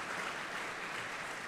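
An audience at a political debate event applauds in a steady, even wash of clapping, fairly soft and distant, with no voices standing out.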